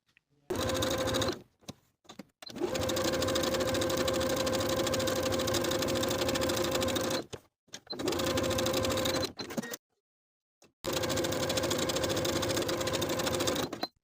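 A sewing machine top stitches the outer and top edges of a scrap-fabric women's top at a quarter-inch seam allowance, running in four steady bursts of close, even stitching with short pauses between them.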